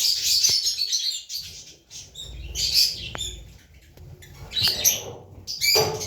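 High, rapid chirping from several lovebird chicks in a nest close by, coming in repeated bursts with brief quieter gaps and soft rustling.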